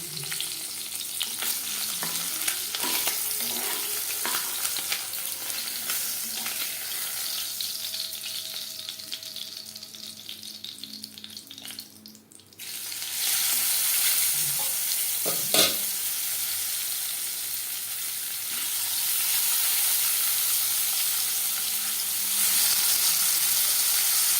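Poa bhola fish frying in a pan of oil, a steady close sizzle running the whole time, dipping briefly before a sharp clatter and then returning fuller and brighter.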